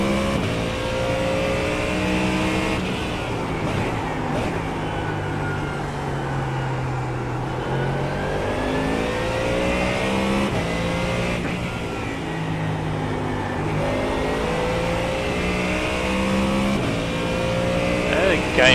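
GT3 race car engines in the iRacing sim at Spa-Francorchamps during a 24-hour endurance event: steady revving, upshifts and downshifts with rising and falling engine pitch throughout, under ongoing commentary voices.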